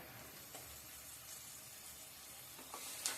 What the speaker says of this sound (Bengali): এভাবে নাড়াচাড়া করে ভেজে নিব